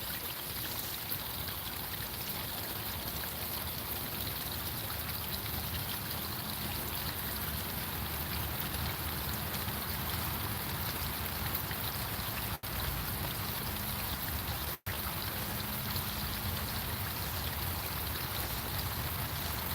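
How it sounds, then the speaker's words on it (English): Steady splashing of a backyard koi pond waterfall, an even broadband wash of falling water close by with faint birdsong barely emerging above it. "So if I would stop talking, just listen to the waterfall and the birds."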